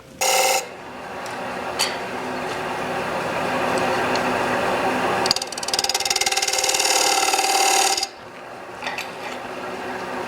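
A wood lathe parts off rings from a coopered birdhouse, a steady mechanical whir with a harsher scraping cut in the middle section, then easing back down, with a few clicks and knocks around it.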